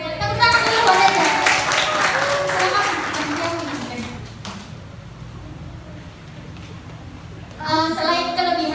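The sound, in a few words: applause for Ega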